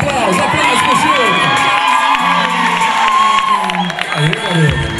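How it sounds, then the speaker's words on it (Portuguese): A crowd at an APAE fashion dance show cheers and shouts, with children's voices whooping loudly and continuously, hand claps mixed into the din. "aplausos, aplausos pro Chilton."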